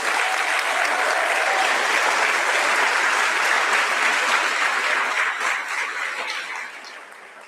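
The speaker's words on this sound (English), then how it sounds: "So give yourselves a round of applause." An audience at a Commonwealth Heroines celebration breaks into loud, sustained applause, a thick wash of many hands clapping close by that holds steady and then tapers off toward the end.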